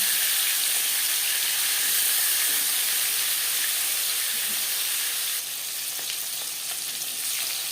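Rui fish frying in oil in a pan, a steady, loud, close sizzle with a constant hissing crackle that runs unbroken throughout, slightly easing near the end.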